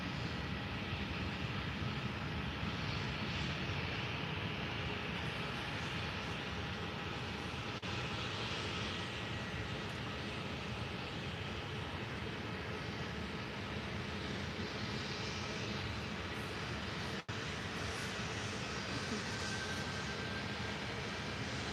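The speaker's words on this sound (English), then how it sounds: "So here goes Ryanair now taking off on runway 28." A Ryanair airliner takes off on runway 28 at Faro Airport in the Algarve, Portugal, its engines a steady, broad roar that holds unbroken at constant strength, heard from a distance with no talk.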